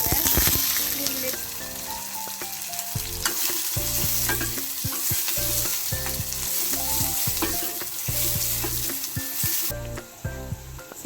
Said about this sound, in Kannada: ಇವಾಗ ಸಾಂಬಾರ್ಗೆ ಒಗ್ಗರಣೆ ಹಾಕ್ಕೊಳ್ತಾ ಇದ್ದೀನಿ ಇವಾಗ ಸಾಸಿವೆ ಜೀರಿಗೆ ಚಿಟಪಟ ಅಂತ